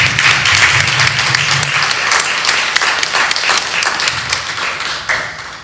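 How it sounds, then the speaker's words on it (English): Audience applause for a pastor at a podcast launch event, loud and dense clapping that fills the room steadily and tapers slightly at the end. "If you all can help me give my pastor a round of applause."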